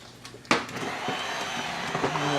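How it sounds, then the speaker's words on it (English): An immersion blender whirs steadily through pumpkin soup in a home kitchen, starting with a sharp onset and holding a continuous close hum with faint clinks. "This magic immersion blender."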